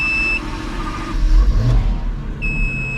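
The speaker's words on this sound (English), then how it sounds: "Just turn it and start it like a car." A 1,500-horsepower twin-turbo Dodge Viper starts up, a low engine catch and rumble swelling near the middle alongside a sustained electronic tone, with the engine settling into a close idle afterward.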